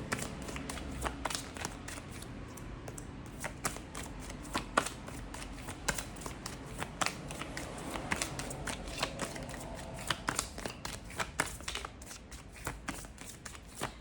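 Tarot cards being shuffled by hand, a steady run of crisp riffling flutters and soft slaps close up, continuing alone at low volume.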